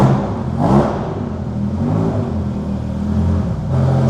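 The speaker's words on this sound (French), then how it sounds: "il faut faire un peu de drift en F40" Ferrari F40 drifting, its engine revving loud and close with rising and falling surges of a mid-pitched roar and tyre whir over about four seconds, no talk.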